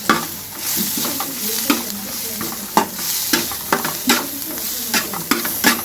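Chicken curry frying in a pan gives a continuous loud sizzle, broken by frequent scraping and clinking strokes of a stirring spoon against the pan.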